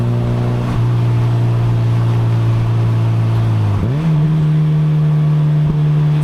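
A Mazda NC Miata with an aftermarket muffler revs loudly up close, its engine note holding steady, dropping, then climbing again to a higher pitch, a smooth continuous drone with no talking.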